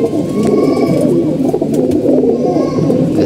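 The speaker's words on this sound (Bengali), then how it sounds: "মাটি কবুতর দেখেন" Pigeons coo in a steady, overlapping murmur close by, low soft calls running on without a break over a busy background hum, with no voices.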